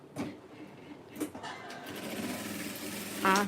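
A sewing machine stitches the female side of a velcro strip onto a doll's clothing, with a short, close mechanical whir that rises at the end, heard over and after soft speech.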